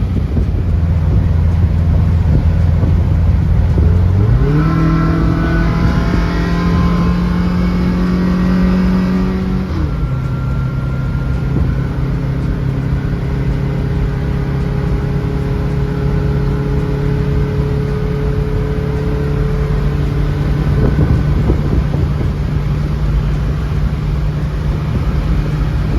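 A 1974 VW bus fitted with a Subaru engine and belly radiator pulls hard under full throttle on a Wisconsin road, the engine note climbing steeply for several seconds before settling into a loud steady drone with heavy wind rush.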